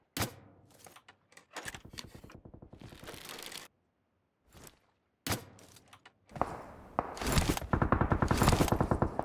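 Gunfire from a player directly ahead in a battle-royale shooter game, sharp bursts of rapid automatic shots in several volleys separated by short silences, loud and close.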